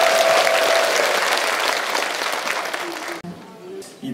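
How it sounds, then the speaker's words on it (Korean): An audience at the 2024 Pyeongtaek community self-governance program contest in South Korea claps loudly and densely, then the applause fades and cuts off, leaving brief quiet room sound with faint voices. "이 박수 치시고 환호하는 거 보니까는"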